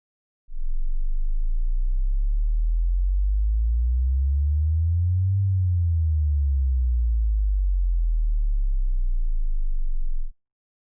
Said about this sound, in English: Here's a low frequency sine wave sweep so that you can have a closer listen